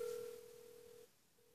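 A telephone call tone plays as a number is dialled: a steady electronic beep held for about a second, then a short pause and the tone resuming, faint and alone.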